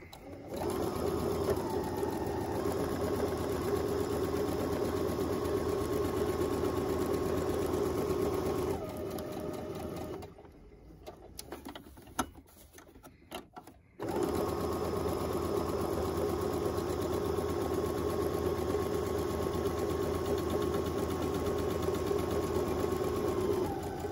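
A sewing machine stitches steadily across a fabric mask pouch, a close, continuous mechanical whir that stops for a few seconds with faint handling noises, then resumes at the same even pace.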